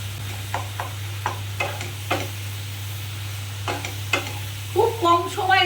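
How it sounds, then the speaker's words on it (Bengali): Spice paste with whole eggplant and tomatoes is sautéed in a pan, with soft scraping stirs and a low sizzle over a steady hum, and a voice comes in near the end. "গোটা বেগুনটা দিয়ে আমি মশলাটাকে ভালো করে কষিয়ে নেবো"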